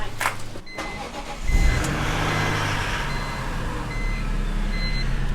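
A car starts after a battery replacement: a few sharp clicks come first, then the engine cranks, catches and settles into a steady, close idle.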